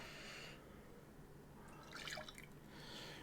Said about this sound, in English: Pouring the shot.